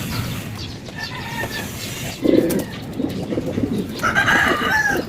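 Racing pigeons in a morning loft coo and call in short repeated bursts, fairly close, over a faint rustling background with no speech.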